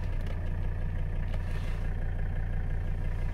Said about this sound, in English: The engine seems a little loud.